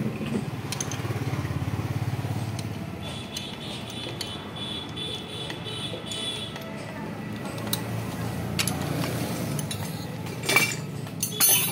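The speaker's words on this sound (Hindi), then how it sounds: "इस तरीके से इस नट को आपको टाइट कर लेना है, फुल टाइट" A nut is tightened on the front shock absorber of an e-rickshaw, giving light metallic clinks and ticks from a tool working on the fitting, with someone talking over much of it.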